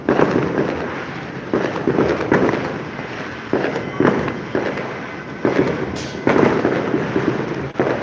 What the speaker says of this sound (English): Those are fireworks from one street over.